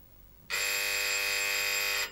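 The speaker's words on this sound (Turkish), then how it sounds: "telefona bak, çalıyor." A telephone rings loud and close in a domestic Turkish TV sitcom scene, one continuous electronic ring starting abruptly after a quiet moment and lasting about a second and a half.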